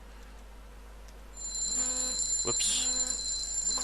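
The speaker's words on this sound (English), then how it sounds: "It's actually like my phone alarm." A phone alarm starts up partway through, a bright repeating electronic tone pattern that rings steadily over a quiet room, with a brief spoken exclamation near its start.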